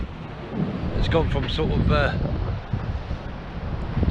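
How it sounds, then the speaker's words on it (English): Wind blows across the Bristol Channel shore near Hinkley Point, a steady low buffeting rumble on the microphone that runs under a man's speech throughout. "the wind is dying down a bit."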